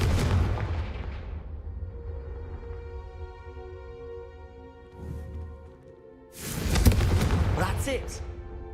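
Confringo spell blasts in Hogwarts Legacy hit candelabras, a loud fiery burst at the start and another sharp blast near the end over a low steady game hum.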